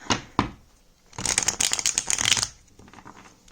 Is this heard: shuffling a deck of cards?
yes